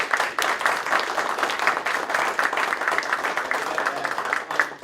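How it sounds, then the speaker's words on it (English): Audience applause at a school board meeting, a dense steady patter of many hands clapping throughout, fairly loud and continuous. "Can we give them another round of"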